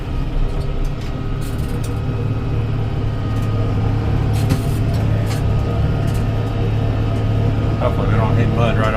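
Vehicle engine pulling in third gear on a rural cattle property with muddy ground: a steady, close, droning hum with rattling and clunks over it, the tone rising slightly as revs build, with a person talking.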